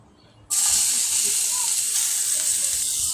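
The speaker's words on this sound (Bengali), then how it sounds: "মাছগুলি কড়া করে ভেজে নিচ্ছি।" Bata fish crisp-frying in hot oil bursts into a loud, dense, close sizzle after a quiet half-second start, then holds a steady hissing crackle to the end, with no voices.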